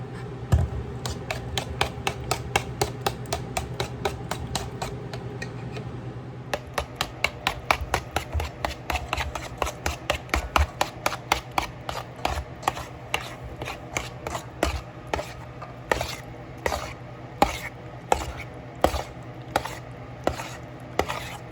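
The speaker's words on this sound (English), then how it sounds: "this is about 2 cups of yogurt that I'm going to throw into here. And then you're going to give that a good mix." About two cups of yogurt being mixed in a bowl for healthy yogurt pops, a steady, fast run of close clinks and taps as the utensil strikes the bowl, briefly pausing before resuming.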